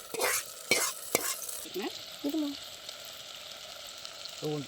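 Tomatoes, onions and green chillies sautéing in a pan during outdoor cooking in a cashew grove, a loud crackling sizzle at first with stirring scrapes, then settling into a softer steady fry.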